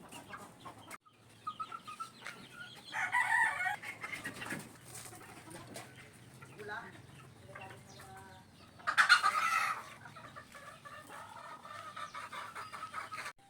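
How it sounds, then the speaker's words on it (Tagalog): Gamefowl in a multi-purpose pen cluck softly and intermittently, with two louder bursts of crowing or squawking standing out over a quiet farmyard background. "nag-umpisa ng magliparan palabas ng multi-purpose pen ang mga manok"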